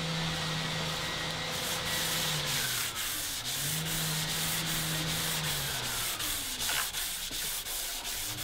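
Wet sanding of a wooden guitar body with mother-of-pearl dot inlays, a continuous close abrasive rubbing with a steady motor hum and rhythmic back-and-forth sweeps, loud throughout.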